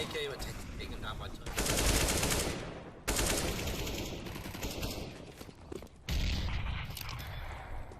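Automatic rifle fire in a CS:GO esports match, dense loud bursts in three long volleys separated by brief pauses, including AK rifle shots.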